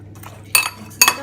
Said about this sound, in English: And then give it a stir again